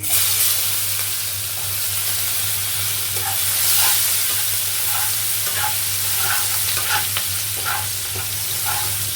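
Crushed garlic with dried chillies frying in a pan, a steady close sizzle with the crackle and scrape of stirring coming in short bursts.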